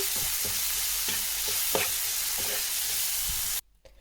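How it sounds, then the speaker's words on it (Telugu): Tomatoes fry with salt in a pan for a moong dal curry, with a continuous sizzle and spaced spatula taps and stirs, close up, before the sound cuts off abruptly near the end. "ఇప్పుడు టమాటా బాగా ఫ్రై అయిందండి"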